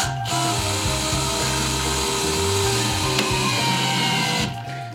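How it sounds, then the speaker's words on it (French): A cordless screwdriver in low gear drives a screw flush into a wooden hand-wash cabinet, a loud steady whirring drone with stepped motor pitch that stops abruptly at the end. "L'avantage là avec la visseuse, c'est que ça me donne plus de force pour rentrer ma tête à fleur."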